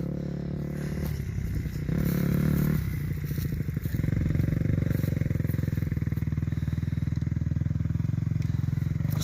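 A motocross dirt bike on a first-time ride accelerates close by, its engine rising in loud, buzzing revs with a few gear changes and a rough, sustained roar throughout, with no talk over it.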